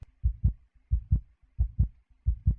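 Heartbeat sound effect from the video game Doki Doki Literature Club: four clear lub-dub double thumps, deep and close, at a quick even pace with no voices over them.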